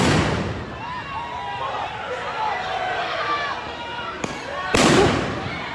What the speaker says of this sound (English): Another couple flashbangs going off.